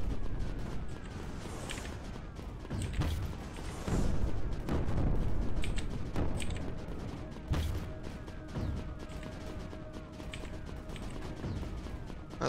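Cannons firing in the video game Creeper World 4, heard as repeated booming shots and sharp blasts at irregular intervals over a low rumbling backdrop, loudest in the middle.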